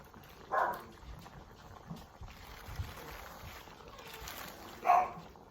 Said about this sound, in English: Who's Riley barking at?